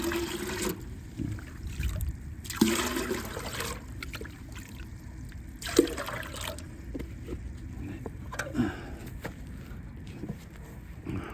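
Collected rainwater pours and trickles in a backyard vegetable garden during morning watering, a steady close splashing stream with a few louder bursts, no voices.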